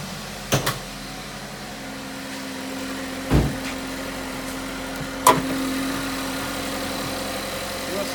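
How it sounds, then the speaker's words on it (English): A 2017 GMC Terrain SLE-2 SUV with a 2.4 liter EcoTec engine runs at a steady, close idle, with a few brief sharp knocks over the continuous low hum. "We're going to go ahead and fire up the engine and give you a look out under the hood."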